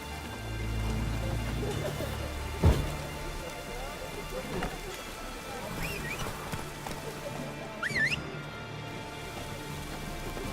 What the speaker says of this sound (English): Wasn't supposed to rain.